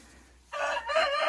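A laying hen, the Lohmann Sandy breed, gives loud, close clucking calls in a nest right after laying a pink egg, two bursts after a short quiet start.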